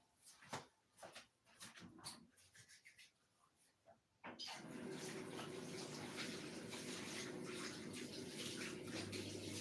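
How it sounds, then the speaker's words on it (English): Running tap water as hands are washed: a few seconds of scattered knocks and rubbing, then the faucet opens into a steady, close rush of water that continues to the end. "I'm gonna wash my hand"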